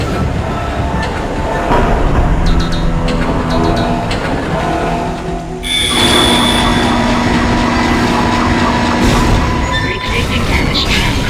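A tram in the Dead Space game rumbles and clatters along its rail at close range, with metallic squeals and a shift in tone midway, while a voice speaks over it.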